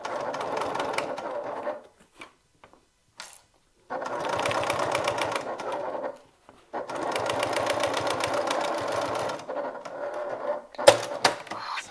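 A sewing machine stitches a top handle bag in three runs of rapid, even needle chatter, separated by short pauses, close and moderately loud.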